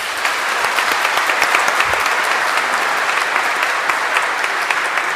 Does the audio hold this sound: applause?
yes